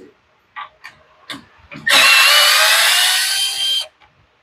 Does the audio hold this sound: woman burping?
no